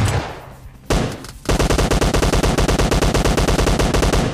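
Gunfire in the PUBG Mobile Lite video game: a single loud shot, then after a short pause a rapid, evenly spaced burst of automatic fire that continues loudly to the end.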